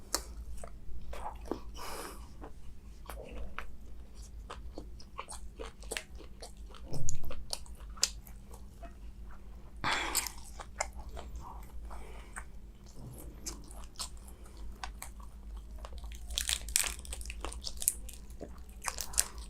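Someone bites and chews a hearty food at close range, a steady stream of wet crunches and chomps with no talking.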